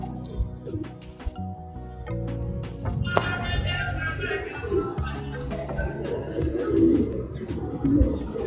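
Indian Fantail pigeons coo in low, repeated rounded calls, close by, with other birds chirping and rustling in the background.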